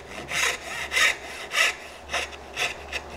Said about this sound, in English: Angle that blade at what you think it should be. Careful to stop at the line.